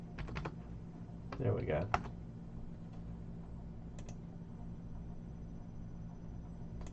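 Computer keyboard typing in a few short bursts of quick clicks, close and moderate, with a person speaking briefly between them over a low background hum.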